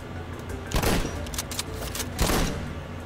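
Shotgun blasts in the Worms video game: two broad, punchy bursts about a second and a half apart over steady game background, moderately loud with no voices over them.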